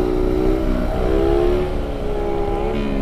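A Kawasaki Z125 motorcycle engine held at full throttle for a wheelie, a loud, steady, close high-pitched drone with a slight rise and fall in pitch, and no voices over it.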